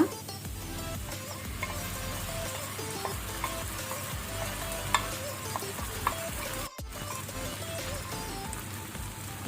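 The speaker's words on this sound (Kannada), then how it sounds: "ಈಗ ನಾವು ರುಬ್ಬಿದ ಮಸಾಲವನ್ನು ಹಾಕೋಣ." Ground masala fries with onions for a Mangalorean mackerel masala fry, a continuous soft sizzle with a steady scraping stir throughout and a few light clicks of the utensil.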